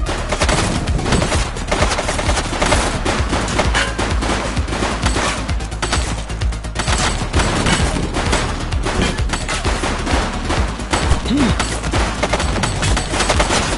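Sustained, dense gunfire from a fleeing suspect in a police shooter game, the shots coming as rapid overlapping bursts that run loud and nearly unbroken from start to finish.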